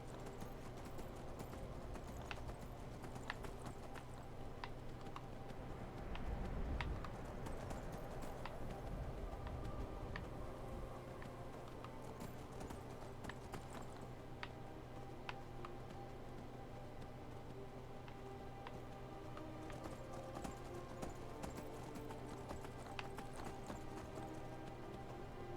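A stolen horse gallops in Skyrim, hooves clip-clopping in a quick, steady rhythm, fairly faint against a low ambient game background, with a brief whinny-like swell partway through.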